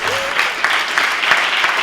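Brief applause from a conference audience, steady clapping at moderate loudness with a voice briefly heard over it.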